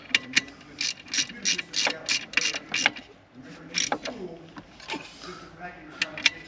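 A ratchet snugs down fasteners on an F-4 Phantom power supply, clicking in short bursts of rapid pawl ticks with pauses between strokes, heard up close with faint background room noise.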